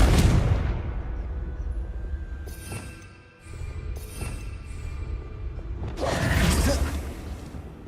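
A Confringo blast spell in Hogwarts Legacy: a heavy explosive rumble that dips into a brief lull, then creaking mechanical clanks and a second roaring burst swelling near the end, with no speech.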